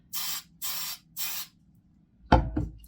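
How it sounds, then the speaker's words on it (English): A can of hairspray is sprayed onto eyebrows in three quick, close hissing bursts. A couple of sharp clicks and knocks follow as the can is handled. "I gotta tame these eyebrows. I know, it's kind of weird. I use hairspray."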